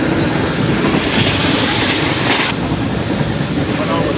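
The Zakriya Express rolls along the ML1 line between Khanpur and Multan during a heatwave, heard from on board as a loud, continuous rumbling roar with rail clatter and a brief hissing, squealing band partway through.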